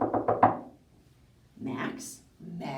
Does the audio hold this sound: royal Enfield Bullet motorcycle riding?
no